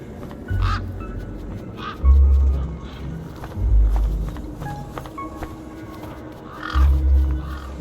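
Large crows cawing in the video game Beyond a Steel Sky, several harsh calls recurring in bursts over a steady low ambient rumble, with faint footstep-like taps.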